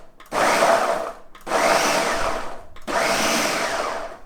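A blender chops fresh cranberries for a cranberry relish in three loud whirring bursts, each roughly a second long, separated by short pauses as the motor is pulsed.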